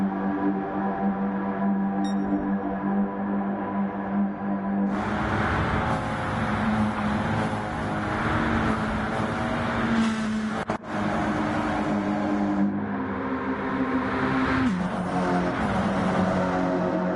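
Stock-style race cars roar around Daytona in Gran Turismo 7, a continuous loud engine drone with a pack of cars surging closer and louder midway, then easing slightly as they pass.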